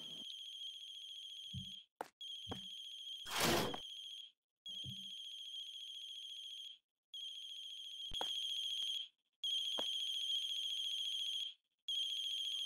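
A phone rings with a repeating electronic tone in bursts separated by short gaps, fairly faint and alone, broken by a few clicks and a brief rustle.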